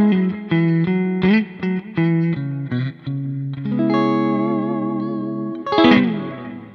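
Electric guitar played through a Kemper profile of a Pro Reverb amplifier set with bright off, volume 5, treble 5 and bass 4, a run of clean picked notes and chords with chorus-like shimmer, ringing out alone.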